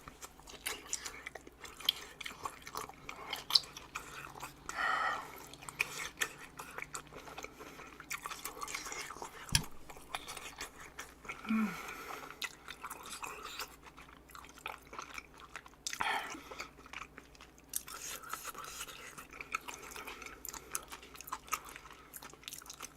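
Close, quiet chewing of fatty boiled pork bossam eaten with kimchi: soft wet squishes and smacks with occasional sharper crunchy bites in an irregular rhythm, and no talking.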